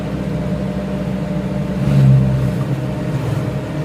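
An Isuzu Elf Long truck engine labors uphill in third gear, a steady close low drone that swells briefly in the middle, with no talking.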